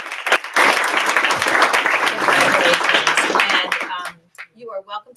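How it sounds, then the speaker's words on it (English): Athletes and families at a school board work session break into a loud round of applause that rolls on for about four seconds, then cuts off, leaving a few scattered claps and quiet. "So I'd like all the athletes to give themselves a round of applause."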